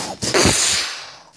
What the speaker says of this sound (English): Why are my sneezes so powerful?